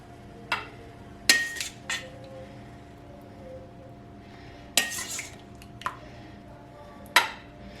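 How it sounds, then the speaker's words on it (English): Spoon or utensil clinks against a pan or baking dish as peaches are scooped onto cobbler batter, seven sharp metallic taps spaced irregularly over a quiet kitchen background, with no talking. "told to scoop the peaches on top. Not to mix anything in, just to scoop them on top."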